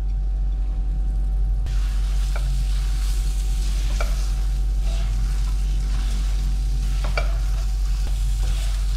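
Fried tofu and spring onions stir-fried with browned cereal oatmeal in a pan, steady close sizzling over a low hum, with occasional clacks of the spatula against the pan.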